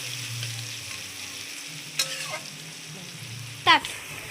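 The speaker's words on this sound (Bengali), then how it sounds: "এবার আমি সুন্দর করে এটাকে একটু লালচে করে বাদামি বাদামি কালার ভেজে নেবো" Onions frying in oil in a pan until reddish brown, a low steady sizzle with a few sharp clatters of a spatula scraping the pan, heard close with no talking.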